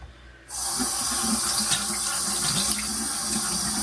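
A tap turns on after half a second and water runs steadily into a bathroom sink, a loud, close, continuous rush with slight splashing, no talk.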